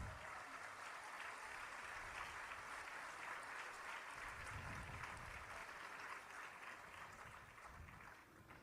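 Steady, dense applause from a large crowd at a Hindu pilgrimage gathering in Jagannath Puri, sustained throughout at an even level with no voices standing out.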